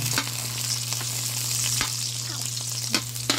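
Garlic sizzles in a hot pan with onions, a steady loud frying hiss broken by a few sharp clicks of a utensil stirring against the pan.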